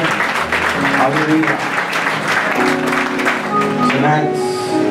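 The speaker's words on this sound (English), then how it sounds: "Come on, give the Lord a good clap over tonight." A church congregation claps and applauds together, a dense steady patter under voices and a shouted exclamation, with music and chatter continuing throughout.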